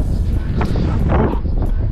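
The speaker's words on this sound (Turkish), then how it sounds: "Çok rüzgar var." Strong wind buffets the microphone outdoors by the coast, a loud, continuous low rumbling roar with gusty surges that drown out everything else.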